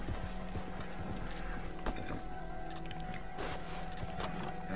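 Horses trot away with steady clip-clop hoofbeats in the Red Dead Redemption video game, a rhythmic clatter at moderate distance with faint mechanical creaks and no speech.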